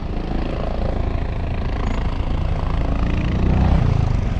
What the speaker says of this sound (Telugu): ఇక్కడ హెలికాప్టర్ ల్యాండ్ అవుతుంది